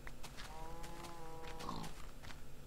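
A pig grunting in Minecraft, a short low nasal grunt with a wavering tone, heard once near the middle over a steady background of game ambience, moderately loud and without talking.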